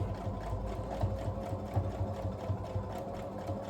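Sewing machine stitching a quilt block seam, running in a steady fast needle rhythm with slight surges as it heads slowly along the line, close and continuous with no talk.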